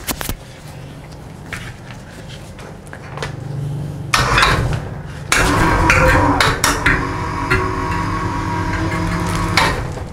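Containers of rice-and-algae nutrient medium for cordyceps are set into a metal steamer pot, making scattered clinks and knocks that build into a loud, continuous clatter and rustle close by.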